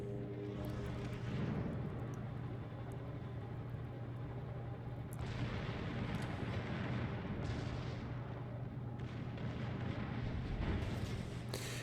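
Naval guns fire high-explosive shells in the World of Warships video game, producing repeated booming salvos over a constant low engine hum. The blasts come at irregular intervals, moderately loud and alone.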